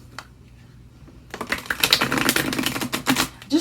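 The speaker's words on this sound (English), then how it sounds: "Split shuffle these very delicate cards." Delicate, out-of-print tarot cards being split shuffled close up, a quiet pause giving way to a dense run of crisp riffling clicks and flutters.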